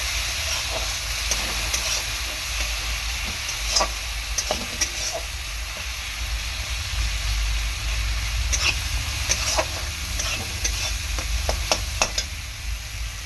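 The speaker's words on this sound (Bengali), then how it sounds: "এরকমভাবে মশলাটা আমি কষিয়ে নেব" Masala with prawns being stir-fried in a wok, a steady close hiss of sizzling running throughout with scattered crackles and occasional clinks of a spatula against the pan, no talking.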